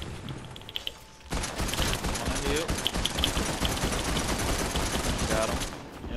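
Heavy gunfire in a shooter video game starts abruptly after a quiet opening and keeps going as a dense, continuous clatter of rapid shots and impacts, close and loud, with a voice talking over it.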